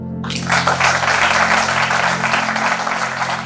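An audience at a seated talk breaks into dense, even applause after a brief quiet moment, loud and sustained over a low electrical hum.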